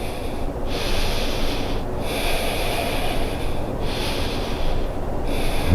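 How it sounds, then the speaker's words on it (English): Deep, loud breathing during a yoga session, close to the mic: slow, steady inhales and exhales, each lasting about a second or more, with no talking. "And take deep breaths."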